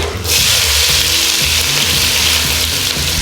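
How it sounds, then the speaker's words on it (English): Onions sautéing in a pan for a homestyle lamb chop curry give a steady, close sizzle that runs unbroken and loud from start to finish, with no voices over it. "And now, I'm going to add the onions."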